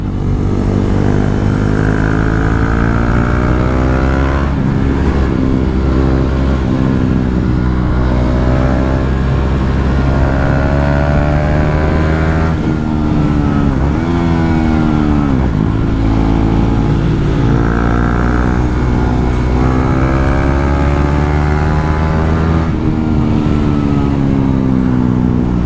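A KTM 390 Duke single-cylinder motorcycle is ridden hard in lower gears, its engine revving up and down repeatedly. The loud, close, continuous engine note rises and falls steadily with the throttle throughout a long ride, with no speech.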